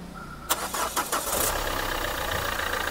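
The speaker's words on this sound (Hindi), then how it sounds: "ये लीजिए गाड़ी हो गई आपकी स्टार्ट" Engine of a used 2017 car cranks and catches at a roadside used-car lot in Delhi, then settles into a steady, fairly loud idle with no talk over it.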